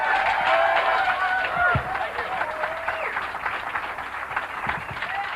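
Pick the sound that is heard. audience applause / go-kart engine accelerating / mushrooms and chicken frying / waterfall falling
audience applause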